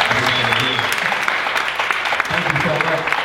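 Audience applause fills the room: steady, loud clapping from a crowd, with a voice speaking over it near the start and again toward the end.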